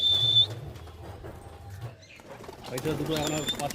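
A flock of racing pigeons at a home loft takes off together, wings flapping in a loud burst that swells near the end, with cooing and a sharp whistle earlier and voices in the background.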